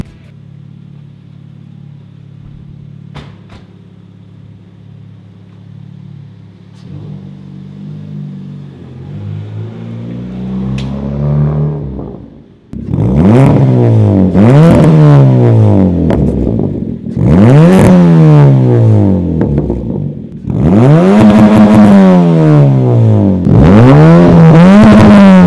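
A MK6 Ford Fiesta ST idles quietly, then roars through several hard accelerations, each rising rev sweep followed by a gear change, loud and close.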